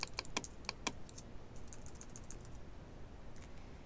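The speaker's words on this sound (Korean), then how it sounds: "이때는 키보드의 왼쪽 대괄호 누르시면 되겠습니다" A computer keyboard clicks through a handful of quick, sharp key presses at the start, then a few fainter taps, close and quiet over a low background hum while someone works in Photoshop.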